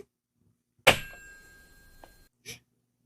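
A telephone receiver is hung up in a radio play, giving a sharp clack with a ringing metallic tail, then a smaller knock and a final short clunk.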